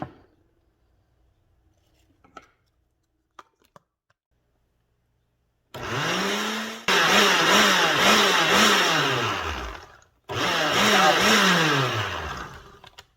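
A blender runs through basil pesto made with olive oil and Parmesan in two loud bursts that follow a few quiet clicks. Its motor pitch wavers and surges, and a short pause separates the bursts.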